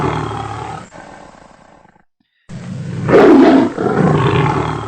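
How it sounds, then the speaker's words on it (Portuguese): A tiger gives a loud, close roar with a rising, rumbling swell that peaks partway through, follows a short silent gap, and is preceded by an earlier growl that trails off. "o rugido dos tigres"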